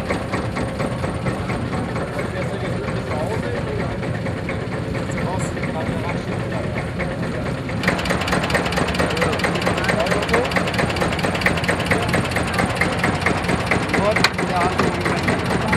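A 1953 Deutz 11 hp tractor engine idles with a steady low, chugging rumble that grows a bit louder partway through, while people talk nearby over it.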